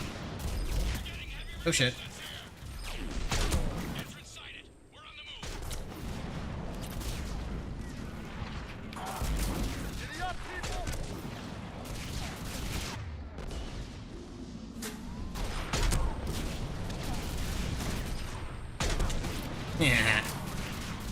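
Constant gunfire fills a Mass Effect 3 firefight, with heavy shots, booms and crackling bursts stacked into a loud, continuous din and a short lull around the five-second mark. A voice exclaims briefly.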